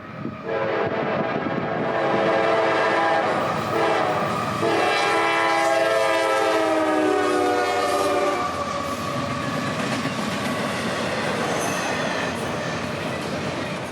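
CSX intermodal freight train I-138, northbound out of Moncrief Yard on a chilly morning, rolls past close and loud, with a horn blast, steady rumbling wheel clatter and some squeal sustained throughout.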